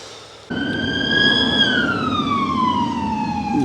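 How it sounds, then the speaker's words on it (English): Police car siren starts abruptly and wails loud and near, one long tone rising slightly then sliding down as it passes, over steady road and motorcycle engine noise. "There's a police car."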